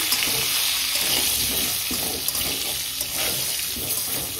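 Potato pieces fry in hot oil with turmeric and salt, a loud, constant hiss and spatter, close by, with faint scrapes of stirring running underneath and no one talking.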